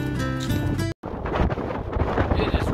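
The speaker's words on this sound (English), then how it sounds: "Windy. I can't even hear me." Strong headwind buffets the microphone of a cyclist riding across Wyoming toward South Dakota, a loud, continuous low rumble and roar that cuts out briefly for a moment before resuming at full strength.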